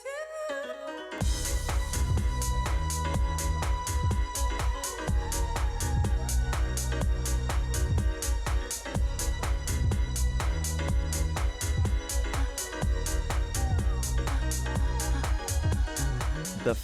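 A house track starts after a short quiet lead-in, then a steady four-on-the-floor beat drives on loud and continuous with thick bass and synth layers.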